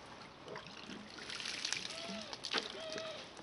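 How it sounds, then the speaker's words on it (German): Water is poured onto substrate being prepared for tortoise hibernation, a faint, close trickle and dribble heard under a low voice. "mache ich da einfach ein bisschen Wasser dazu."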